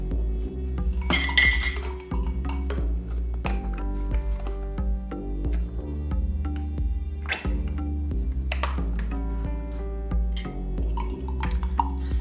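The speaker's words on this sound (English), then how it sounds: "Stir it up." Lotion and lube being stirred together in a container, a steady run of small clinks and taps of a utensil against the sides, close and fairly busy, with no talking.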